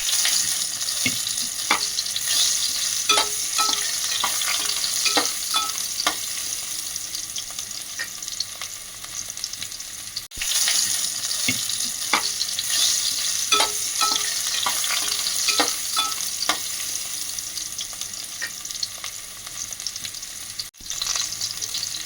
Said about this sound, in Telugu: ఇవి ఆయిల్లో ఫ్రై చేసుకోవాలి.